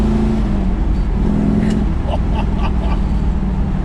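A 1968 Shelby Mustang 500GT with a manual gearbox, heard from inside, delivers a loud, steady low engine roar under load that holds throughout, with faint higher clicks and rattles partway through.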